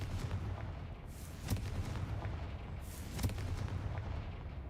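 Two sharp blasts from the Confringo curse in Hogwarts Legacy, spaced a couple of seconds apart, crack over a low rumbling game background at moderate volume.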